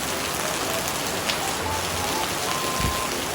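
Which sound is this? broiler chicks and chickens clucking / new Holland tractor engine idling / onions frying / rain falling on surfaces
rain falling on surfaces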